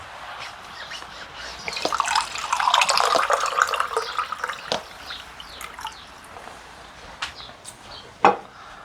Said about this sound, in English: Then we add some water.